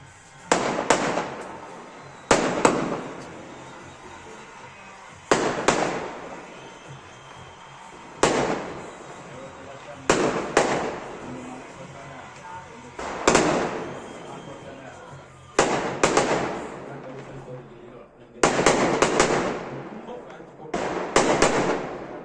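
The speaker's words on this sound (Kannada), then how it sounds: "ನಾವು ಎಷ್ಟು ಪಟಾಕಿ ಹೊಡೆದ್ವಿ ಗೊತ್ತಾ ನಮ್ಮ ಸುತ್ತಮುತ್ತಲೆಲ್ಲ ಪಟಾಕಿ ಹೊಡೆದಿದ್ದು ನೋಡಿದ್ರಲ್ಲ" Firecrackers burst in a celebration of a reality-show win, with about eight loud, sharp blasts spaced a few seconds apart. Each blast is followed by crackling tails, and a steady murmur of background noise fills the gaps.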